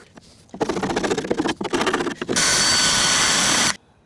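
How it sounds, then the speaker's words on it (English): A power-tool wire wheel grinds rust off the door of a 1989 Land Rover Defender 110, starting with choppy scratching bursts and then settling into a loud, steady, close abrasive whir that stops abruptly. "We'll get the wire wheel on that, clean it all up"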